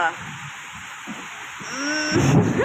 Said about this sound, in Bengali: পুরো সাদা হয়ে ঝড় বৃষ্টি হচ্ছে এখানে বিশাল আকারে